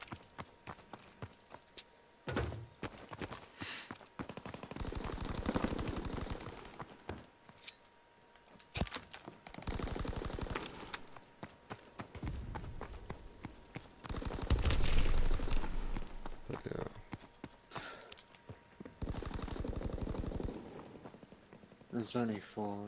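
Gunfire from the Call of Duty: WWII airship map, with repeated bursts of rapid shots and crackling volleys rising and falling, mixed with game effects and voices talking over the action.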